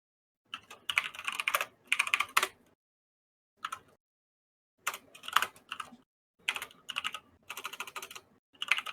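Fingers tapping on a small computer keyboard in short bursts of quick keystrokes separated by pauses, close and fairly quiet, with no talking.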